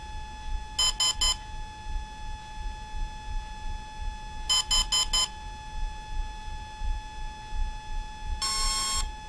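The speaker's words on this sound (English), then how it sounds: "That's the long beep." A Volcano 30A brushless ESC for a 450 RC helicopter emits a quick series of short electronic beeps, two separate bursts, then a longer sustained tone near the end over a faint steady hum.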